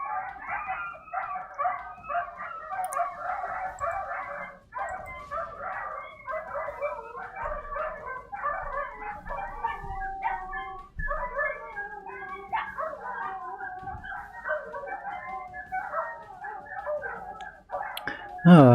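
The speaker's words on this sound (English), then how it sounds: "there goes my neighbour's blasted dogs" Dogs next door bark repeatedly in bursts, fairly loud and continuous throughout, with a rooster-like cry and yips mixed in, near-field and competing with occasional voice.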